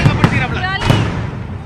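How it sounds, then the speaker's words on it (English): Fireworks outside Chepauk Stadium celebrating a Kolkata Knight Riders IPL final win: loud popping bursts and crackles over a dense crowd roar, with a voice talking through it. "here outside the Chepauk Stadium, fireworks on, congratulating Kolkata Knight Riders"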